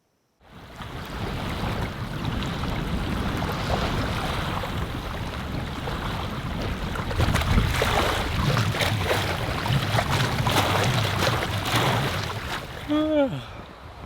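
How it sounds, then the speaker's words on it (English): Strong wind buffets the microphone outdoors at a remote Canadian canoe campsite in a continuous low roar, with water sloshing nearby and a brief voice near the end. "It's very windy out today."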